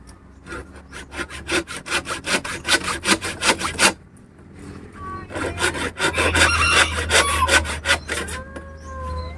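A dull hand saw rasps through wood in rapid rhythmic strokes, pausing briefly before resuming with faster, rougher strokes.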